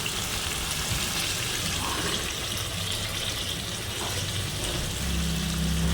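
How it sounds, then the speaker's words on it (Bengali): Boiled black taro (kochu) fries in oil in an uncovered pan, giving a continuous, even sizzle and hiss that stays close and unchanging throughout with no talk. "কচুটাকে ভালো করে ভেজে নিব 10 মিনিটের মতো।"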